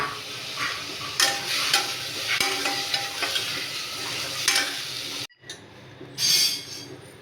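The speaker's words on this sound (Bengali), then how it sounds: "দিয়ে এটা ভালো করে নেড়েচেড়ে আমি ডালিয়াটা দিয়ে ভালো করে কষিয়ে নিয়ে জল ঢেলে দেবো।" Dalia cooking with spices in a pan produces close, repeated scraping and stirring strokes over a sizzling background, with a brief break near the end before the stirring resumes, no speech.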